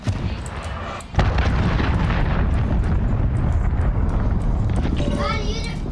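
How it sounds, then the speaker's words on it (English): A cruise missile strike in Call of Duty Modern Warfare hardcore mode: a sudden loud blast erupts, then a dense sustained roar of explosions and debris fills the scene, with a voice speaking over it. "Cruise missile incoming."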